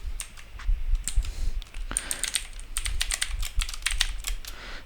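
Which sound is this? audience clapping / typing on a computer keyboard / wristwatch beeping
typing on a computer keyboard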